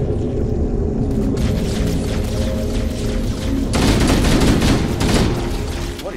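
Dense, continuous gunfire from the video game Halo: Combat Evolved, rapid bursts and rattling fusillades layered with mechanical clatter and rumble, loud and unbroken throughout.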